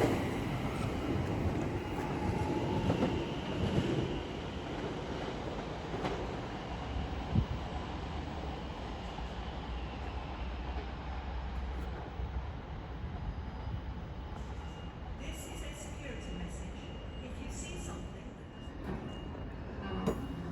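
A Greater Anglia Class 720 electric train pulls away from Stratford station, a continuous rumbling rail roar with faint wheel clatter, moderately distant and steady throughout.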